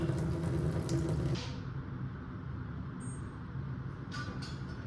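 Fluid gushes out loudly from a Kawasaki KX dirt bike as its drain bolt is undone, a strong broadband pour that drops to a steadier, softer trickle after about a second and a half, with no one talking.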